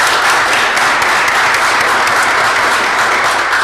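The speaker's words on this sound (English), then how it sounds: "I'd just like to have a round of applause for him." A board meeting audience gives a round of applause for a departing board member: loud, dense clapping from a crowd that holds steady throughout.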